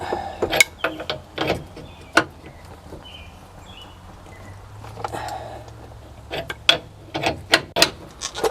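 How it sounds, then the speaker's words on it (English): A big breaker bar and socket work loose a lower ball joint on a Workhouse P32 chassis, giving a string of close metallic clicks and ratcheting snaps in irregular bursts with quiet gaps between them. "I'm just using a big breaker bar and a socket"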